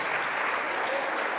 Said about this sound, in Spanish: Nuestro hermano Armando, le damos un fuerte aplauso en esta mañana.